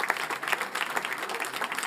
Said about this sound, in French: On peut les applaudir, merci à tous.